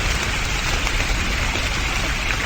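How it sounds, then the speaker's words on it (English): Heavy rain in a video game pours down in a dense, continuous hiss, loud and close, with no other sounds. "The rain is really loud though."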